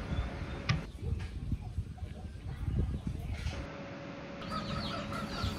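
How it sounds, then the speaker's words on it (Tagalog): Chickens cluck and chatter in a busy backyard while a person talks over the noise of the flock. "narinig nyo po sa background yung tilak ng ating mga manok, maingay po sila"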